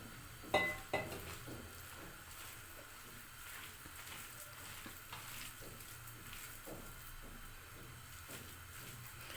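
Vegetable pakoras made with gram flour batter fry in oil in a kadhai, giving a soft continuous sizzle with a couple of sharp clinks near the start, heard close and quiet without speech.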